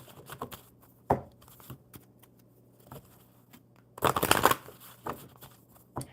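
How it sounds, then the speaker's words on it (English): Tarot-style cards handled close up: several short riffles and flicks, then a longer, louder burst of shuffling before a few final taps as a card is drawn, in an otherwise quiet room. "I'm going to pull a mermaid card for Marcia"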